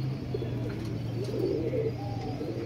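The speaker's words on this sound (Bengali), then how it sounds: "এটা মাদি পায়রা।" A female pigeon of a fancy domestic breed coos repeatedly in a low, throaty rhythm close by, with steady soft bird calls through the whole stretch and no talking.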